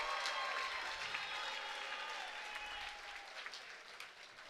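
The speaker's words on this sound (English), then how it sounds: "a round of applause for 2 great fighters and 1 great fight" A crowd at a kickboxing event applauds after a fight, a steady wash of clapping heard from a distance at low volume and slowly tapering off over a few seconds.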